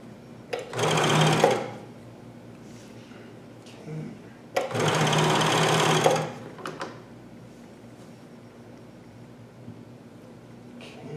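A Janome 634D CoverPro 1000 sewing machine stitching knit fabric, running in two clear bursts of rapid mechanical whirring separated by quiet pauses, with faint talk in between.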